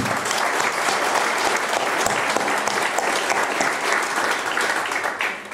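Applause from an audience at a book gathering, sustained loud clapping from a full room, steady throughout before tapering slightly at the end.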